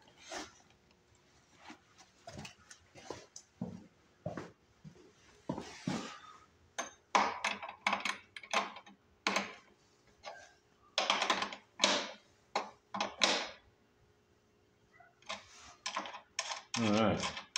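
Metallic clicks and ratcheting clatter from a 1/2 inch wrench tightening a stud on a Detroit lawn mower come in irregular bursts, close and fairly loud, with short pauses between turns.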